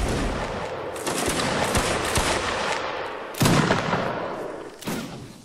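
Musket volley fire at will in a video game, ragged bursts of overlapping shots with heavy booming reports, loud and continuous with sharper single cracks near the end.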